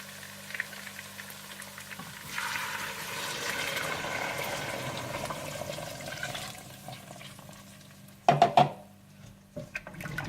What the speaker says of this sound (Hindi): गोश्त को भूनने के बाद आप इसमें यखनी डाल दें और बाकी आप चावलों के हिसाब से पानी डाल दें।